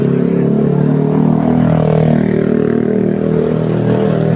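Idling motorcycle engine at a Caloocan paint and customization shop, a steady loud low rumble held throughout without clear revs.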